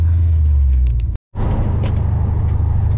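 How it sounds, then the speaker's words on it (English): A 1970s Holden HQ Monaro drives through heavy city traffic near Melbourne, its deep engine rumble steady and loud, cut by a brief silent gap before the drone resumes with passing traffic noise. "I was just really focusing on driving this car, and it was just such heavy traffic"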